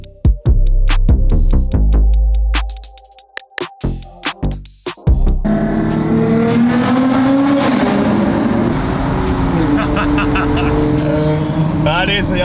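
A manual Audi R8 sports car revs hard in loud, sharp bursts, then pulls away with a sustained rising and falling engine roar close by.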